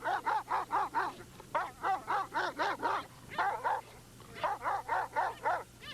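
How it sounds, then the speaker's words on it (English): A nine-month-old Fila Brasileiro barks repeatedly during bite work, giving close, loud, rapid volleys of deep barks in bursts of four to six with brief pauses between, over a faint steady hum. "This is my Fila Brasileiro."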